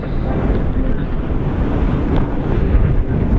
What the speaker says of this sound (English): A good wind today. There's actually a strong wind warning on the weather forecast